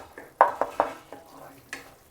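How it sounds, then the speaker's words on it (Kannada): Tomatoes are stirred and mashed in a frying pan for chutney, giving a few sharp scraping and tapping strokes of a utensil against the pan over a soft sizzle, close and fairly loud, with no talking. "ಒಂಚೂರು ಮುಚ್ಚಳಿಕೆ ತೆಗೆದು ಹಿಂಗೆ ಒಂಚೂರು ಮಸೀರಿ"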